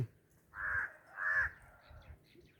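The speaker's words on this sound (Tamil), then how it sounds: "காகம் சும்மா கரைச்சிக்கிட்டு இருக்கு" Crows caw near an old Shiva hilltop temple at Kunnamalai, two loud harsh caws in quick succession followed by a fainter third call, over quiet outdoor background.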